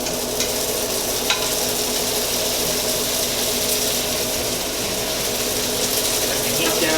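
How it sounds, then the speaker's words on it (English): Zucchini noodles tossed in a hot pan with shrimp scampi sauce, a steady close sizzle and frying hiss with faint stirring scrapes running throughout, no talk heard. "I'm going to go ahead and add in the noodles now"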